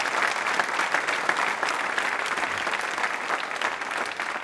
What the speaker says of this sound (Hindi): श्रद्धा के रूप में उनके प्रति सम्मान प्रकट करते हुए तालियां जोरों से बजाइए।